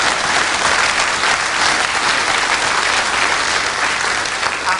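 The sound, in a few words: studio audience applause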